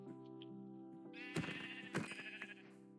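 Sheep in the video game Minecraft bleating, a loud, wavering bleat up close with a couple of sharper pulses in the middle, sounding alone with no talk.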